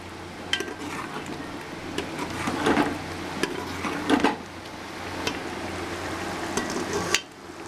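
Black pepper and dry coriander are stirred into a pot of meat and chana dal, a continuous close frying hiss with a few louder scraping swells of the spoon.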